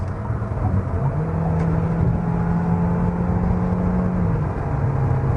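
SsangYong Torres SUV with a downsized turbo engine accelerating, a steady engine drone whose pitch climbs gradually and then levels off, heard from inside the cabin with no talk.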